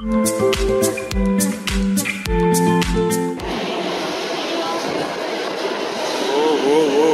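A Delhi Metro Airport Express train rushes past at speed, a broad steady roar of wheels and rushing air following a brief burst of rhythmic music-like tones at the start.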